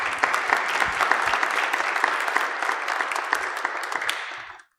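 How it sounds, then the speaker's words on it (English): Dense audience applause at a community forum on bail reform, loud and sustained, thinning briefly at the end before cutting to silence. "Can they get another round of applause?"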